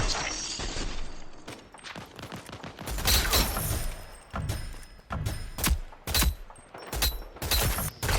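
Rapid bursts of automatic gunfire from the MLX weapon in the shooter game Rogue Company, sharp repeated shots in quick clusters with brief pauses between volleys, close and steady throughout.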